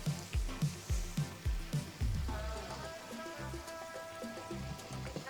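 Prawns sizzle in butter in a pan, with rhythmic thumping bursts at first and then a steady crackling hiss, quiet and close, under faint tonal background sound.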